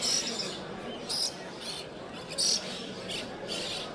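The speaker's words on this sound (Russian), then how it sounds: "Попугай Нанди" Harsh, raspy nanday parakeet squawks repeat every second or so against a steady background hiss, fairly close and moderately loud, at a bird show in Australia.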